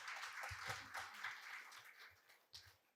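An audience claps at the opening session of a national gathering, with scattered claps over a faint hall murmur that tapers off toward the end.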